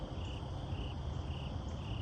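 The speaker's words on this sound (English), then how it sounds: "Frogs, you can hear them." Outdoor morning chorus of frogs, with a steady trilling and a constant high insect-like buzz, moderate level and continuous, no speech.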